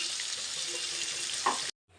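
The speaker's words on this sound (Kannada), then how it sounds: "ಮಿಕ್ಸಿಗೆ ಸ್ವಲ್ಪ ನೀರನ್ನ ಅದನ್ನು ಹಾಕ್ಬೇಕು" Water pours steadily into a mixer jar for a Kannada-style ridge gourd palya, a broad hissing splash under no talk, cutting off abruptly near the end.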